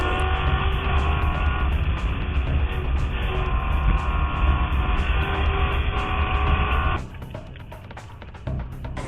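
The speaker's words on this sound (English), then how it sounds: "We're racing now with the Ford Racing Mustang Challenge as they dive down corner 1." Ford Racing Mustang Challenge race cars roar through the corners at Mosport Raceway in Canada, a loud, steady wash of engine noise that drops off abruptly near the end as the pack passes.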